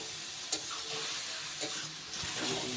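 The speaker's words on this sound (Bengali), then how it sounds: "এবার কিন্তু এই মশলার সাথে আলু আর মটরটা ভালোভাবে মিশিয়ে নেব" Boiled potatoes and peas are stirred with cumin powder and spices in a pan: soft, steady scraping over a faint sizzle, with a few light knocks of the spoon against the pan, close by.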